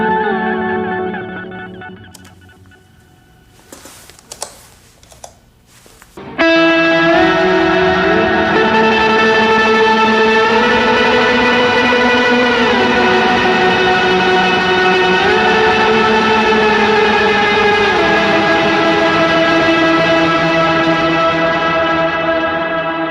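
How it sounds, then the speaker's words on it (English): Electric guitar played with slide through a glitchy high and low octave delay pedal drenched in reverb, a big sustained shimmering wash of layered pitches that swells in loud after a few quiet scattered notes and rings on continuously. "that was this weird glitchy high and low octave delay thing"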